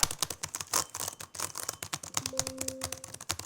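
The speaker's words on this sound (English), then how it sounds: "This actually has the best tactile mechanical keyboard that I've used on a laptop, period." Rapid clacky keystrokes on a laptop's mechanical keyboard with Cherry MX switches, an irregular burst of crisp clicks close to the microphone, alone without talk.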